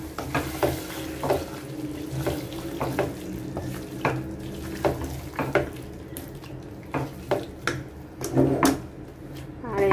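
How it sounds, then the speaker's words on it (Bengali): Ripe mango pickle with panch phoron is stirred in a pan, with a spoon repeatedly scraping and clinking against the metal over a low steady hum. The pickle simmers softly underneath. "এখন ভালো করে নাড়াচাড়া করবো"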